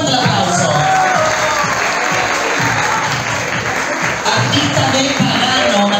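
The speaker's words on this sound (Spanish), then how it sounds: "Fuerte el aplauso para Daniel Villegas" Steady applause and crowd noise from a studio audience at a talent contest, cheering for contestant Daniel Villegas, continuous and loud for the whole stretch with voices mixed into the clapping.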